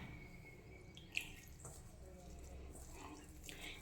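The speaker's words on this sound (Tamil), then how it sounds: "கொஞ்சம் தண்ணி நமக்கு பத்தலை, அதனால் கொஞ்சம் தண்ணி ஊற்றிக்கலாம்" Faint trickling and splashing of water poured into a pot of cooking bottle gourd and cabbage, soft and continuous with a small clink, close by and quiet.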